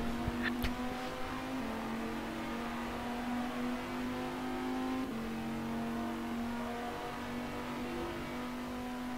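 A race car engine in a sim-racing broadcast of the 12 Hours of Spa holds a steady, droning note throughout, its pitch stepping up and down slightly as it revs through gears, with no voices.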